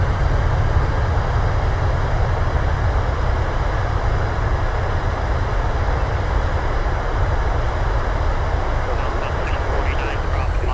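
Heavy, steady rumbling roar of the thrust reversers on a PMDG 737 landing at Long Beach in Microsoft Flight Simulator, loud and unbroken throughout, with a pilot voice over it.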